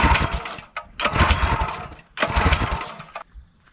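A small outboard motor on a micro aluminum boat is cranked in repeated pull-start attempts, with sputtering engine bursts separated by short pauses, close and loud.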